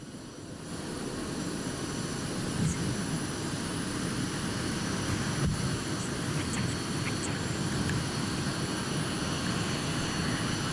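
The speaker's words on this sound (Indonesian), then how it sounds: "Dengan menggunakan helikopter, Presiden Prabowo meninggalkan kawasan Bandara Silangit." Presidential helicopter departing Silangit Airport, a steady, loud rotor and engine roar that holds unbroken throughout with no voices.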